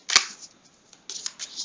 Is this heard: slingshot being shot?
no